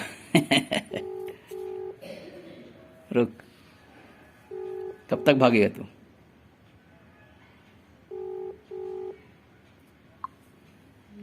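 A phone call rings out in repeated double tones with pauses and goes unanswered, while someone talks loudly in bursts between the rings.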